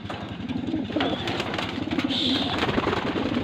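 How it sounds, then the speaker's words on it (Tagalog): Pigeons cooing steadily in a loft, low repeated coos layered together with a few brighter chirps, fairly close and continuous throughout. "Lahat po ng mga kalapati natin dyan."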